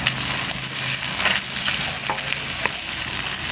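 Garlic and onion sautéing in hot oil for pork mascara, a loud, close, continuous sizzle with occasional crackles and stirring scrapes.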